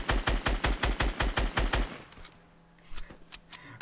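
Rapid automatic gunfire in the video game Fortnite, about a dozen evenly spaced loud shots in a fast burst, then a pause and a couple of fainter scattered shots.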